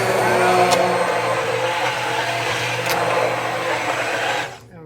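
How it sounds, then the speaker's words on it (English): Immersion blender churning curried carrot, sweet potato and ginger soup, a loud steady motor whir with the soup sloshing, cutting off abruptly near the end. "So, immersion blender,"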